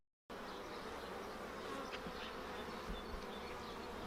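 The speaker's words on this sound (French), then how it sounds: "On va aller voir les petites abeilles." Honeybees buzz around a garden beehive after the winter, a soft, continuous droning hum from many insects that stays faint and even, with no talking.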